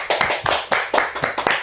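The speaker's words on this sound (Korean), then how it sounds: "박수!" A small studio audience claps briskly to welcome a lawmaker guest onto a Korean political talk show. A few close pairs of hands give quick, uneven claps for under two seconds, without speech.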